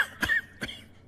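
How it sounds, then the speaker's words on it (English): Two short, raspy coughs about a third of a second apart, close and fairly loud, with a faint tone in the background. "Let me cure your cough."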